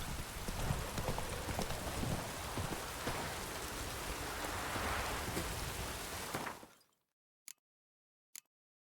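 Roach, a horse in a video game, gallops with a steady run of hoofbeats over a dense rain-like wash for about seven seconds, then everything cuts out except two brief, isolated clicks.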